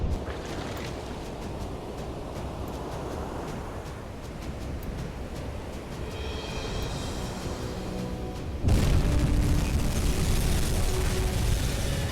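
Torpedo striking a ship in a submarine attack, a sudden loud deep explosion bursting in late and holding as a heavy roaring rumble over the earlier low, noisy background.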